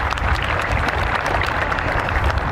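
Audience applause at the Cuyahoga Heights High School 2025 graduation ceremony, a steady wash of clapping with low rumble sustained throughout, no voices over it.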